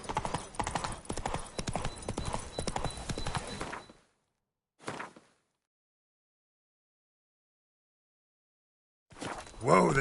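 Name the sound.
horse hooves from video game Witcher 3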